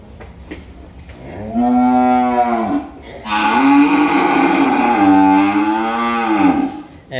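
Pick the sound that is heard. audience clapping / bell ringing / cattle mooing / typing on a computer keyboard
cattle mooing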